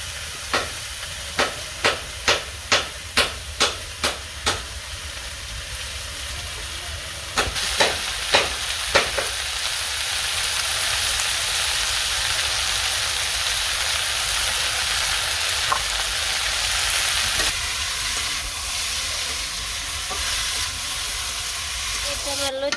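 Vegetables frying in a pan with turmeric and chili, a steady broad sizzle and hiss running throughout, with a series of sharp rhythmic knocks of a utensil against the pan early on and a few more later.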